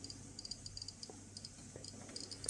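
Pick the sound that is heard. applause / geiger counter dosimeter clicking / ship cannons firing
geiger counter dosimeter clicking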